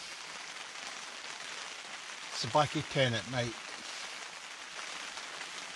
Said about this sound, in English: As you can hear in the background, it's still raining.